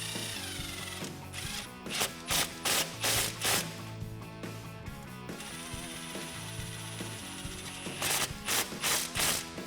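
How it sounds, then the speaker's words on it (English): An 8mm socket on a ratchet tightens the clamps on the intake tube of a 2016-2021 Toyota Tacoma 3.5L V6 during a cold air intake install, making two sets of sharp, evenly spaced clicking strokes over a faint background hum. "We can take an 8mm socket and tighten those down."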